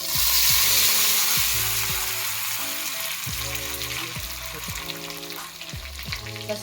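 Cumin, chilli and coriander sizzle loudly in hot ghee, a dense steady frying hiss. It rises at first and then settles, with a repeating mechanical whir underneath.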